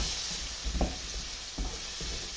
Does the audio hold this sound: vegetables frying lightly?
yes